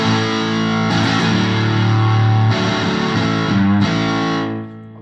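Squier Classic Vibe 50s Stratocaster played through an amp with a touch of reverb and centered EQ, sustained chords and notes ringing out loud, then decaying away at the end.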